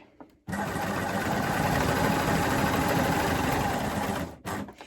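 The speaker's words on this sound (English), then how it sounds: "if you have a machine that does chain off like this one, I can continue to sew off and create a chain" A coverstitch sewing machine runs steadily through plaid fabric for about four seconds, a loud, even, rapid mechanical whir that starts abruptly and stops cleanly, followed by a brief clatter.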